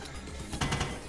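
In the video game Big Pharma, a pill printer machine and conveyor belt run with a soft, continuous mechanical whir and a faint clatter, low in level.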